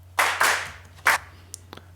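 Drum machine clap sample struck three times in quick succession, bright and snappy, then a few faint ticks trailing off over a low steady hum.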